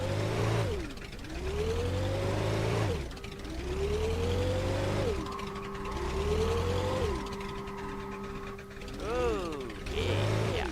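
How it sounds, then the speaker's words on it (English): In a video game drag race, a TMT Reptilian and a DVC C800 accelerate hard, their engines climbing in pitch through repeated gear changes, each upshift dropping the revs before they rise again, with a mechanical whine throughout. "we're going to do a drag race"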